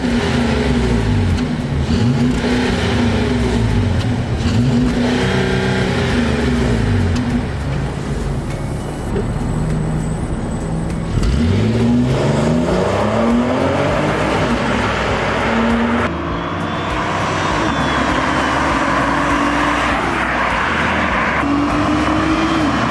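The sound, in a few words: 2012 Audi Q5 Prestige SUV engine while driving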